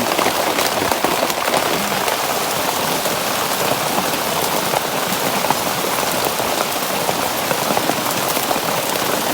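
Steady heavy rain falls outdoors, a dense, continuous patter of drops striking surfaces at close range with no pauses or voices.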